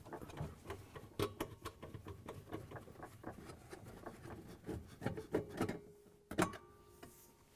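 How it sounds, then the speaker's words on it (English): A 1/4 inch nut driver backs screws out of a refrigerator assembly, giving faint scraping, ticking and rattling sounds with scattered metallic clicks up close in a quiet room. "grab the 1/4" nut driver, take out the 4 screws that hold the assembly to the brackets"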